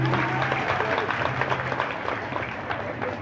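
Applause from an audience at a children's Islamic preaching competition in Aceh, a dense, even patter of many hands clapping, steady and fairly loud, with a low hum and a brief voice underneath at the start.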